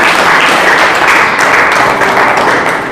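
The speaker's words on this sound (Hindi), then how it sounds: "ताली बजा के प्रभु की महिमा करें" A church congregation claps in praise, a loud, dense burst of many hands clapping together, held steady for a few seconds and easing slightly at the end.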